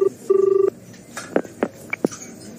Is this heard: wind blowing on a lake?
no